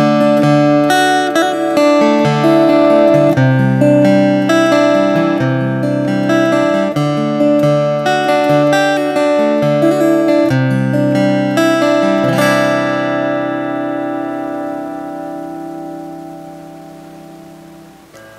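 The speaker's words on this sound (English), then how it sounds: "Now I'll go ahead and finger pick for you guys that do that." Finger-picked Taylor GA Custom mahogany acoustic guitar played through a Fishman SA330X PA, close and clear, plucked notes and chords flowing for about twelve seconds before a last chord rings out and slowly decays.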